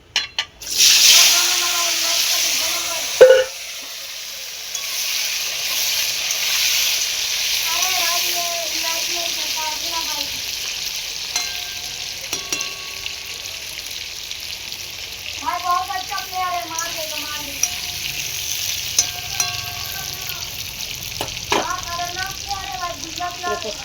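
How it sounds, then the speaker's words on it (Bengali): Potatoes fry in a generous amount of oil, giving a steady broadband sizzle that runs throughout. A voice talks over it in several bursts, and occasional sharp clicks come from utensils. "এই যে তেলটা আছে অনেকটা বেশি তেল আছে, এখানে আমি এখন আলুগুলোকে ভেজে নেব।"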